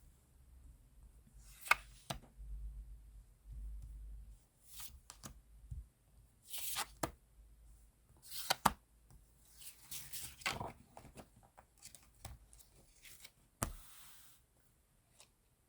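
Tarot cards being shuffled and drawn by hand: soft riffling bursts and brisk slaps spread across the clip, with quiet pauses between flurries and a few sharper snaps, close and moderately quiet.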